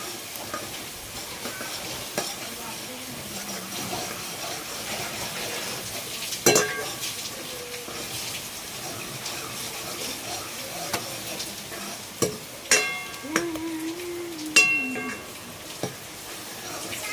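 Onion and masala frying on a wood-fired chulha stove in a Konkan home kitchen, a soft steady sizzle broken by metallic clinks and scrapes of a spoon against the pot, with faint background sounds.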